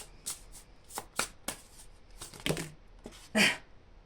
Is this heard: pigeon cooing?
no